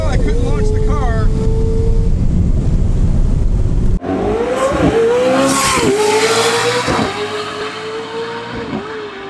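A McLaren 750S launches hard in a drag race, its engine screaming up through the revs and then climbing again with sharp upshifts, loud and close, amid a burst of noise at the start.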